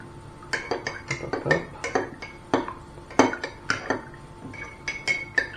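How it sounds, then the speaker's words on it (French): A spoon stirs a grog of rum and lemon juice in a glass, giving a rapid run of sharp clinks and taps against the glass, close and alone. "maintenant on mélange bien"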